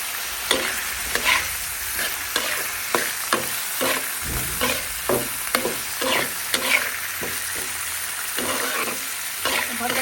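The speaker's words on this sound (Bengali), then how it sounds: "আমি একদম সুন্দর করে মশলাটা করে ভেজে নেব" Spice mix frying in a pan for a mashed pointed gourd peel dish, with a steady sizzle broken by repeated scraping stirs of a spoon against the pan, close and fairly loud, no talking.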